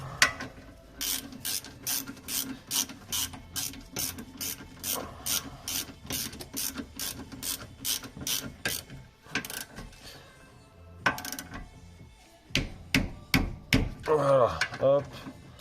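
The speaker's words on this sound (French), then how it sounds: "On va procéder au serrage de l'étrier." A ratchet tightening the rear brake caliper of a Peugeot 309 GTI during restoration, with a fast run of crisp, evenly spaced clicks, a pause, then a few more slower clicks, close and moderately quiet.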